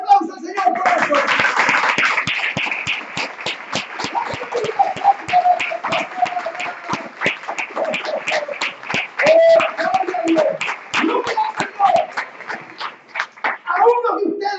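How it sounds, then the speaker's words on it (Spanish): A church congregation claps for the Lord during a sermon, with crisp repeated handclaps running through the whole stretch while a voice speaks over them. "den un aplauso al Señor por eso"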